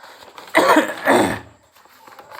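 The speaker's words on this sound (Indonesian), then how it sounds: "Saya agak batuk nih." Two quick, harsh coughs close to the microphone, followed by quiet.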